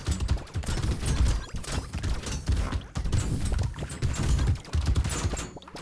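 Rapid bursts of automated turret fire in a video game, with sharp clustered shots rattling in quick irregular volleys that repeat throughout amid other game noise.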